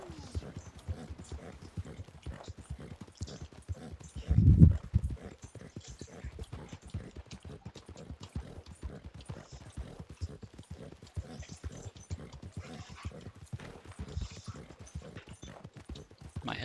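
Horse hooves clip-clop steadily in the video game Red Dead Redemption 2, a faint, even walking rhythm that runs the whole time, briefly masked by one louder low thump partway through.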